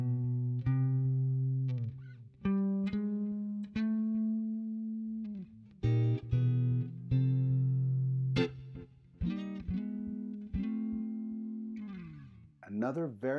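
Electric guitar strums a sequence of sustained slash chord voicings, each chord ringing out before the next change, with a slightly processed, effected tone and no talking over it.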